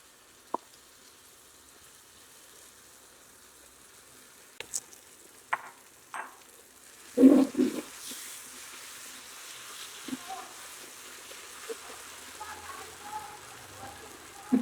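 Onion softening in a pan for green banana mash, with a soft steady sizzle, a few light clinks and one louder scraping stir in the middle, close and fairly quiet throughout.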